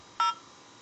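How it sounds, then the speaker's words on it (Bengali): A single short telephone keypad DTMF tone as a USSD code is dialed on a GP mobile phone, a clean two-pitch beep lasting about a tenth of a second against a quiet background. "এটা নিতে আপনাকে ডায়াল করতে হবে"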